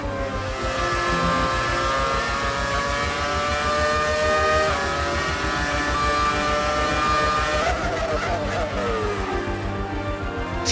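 A Brawn BGP001 Formula 1 car's engine in the F1 2018 racing game, a loud sustained high-revving whine with rising and falling harmonics as it upshifts and downshifts, constant and close throughout.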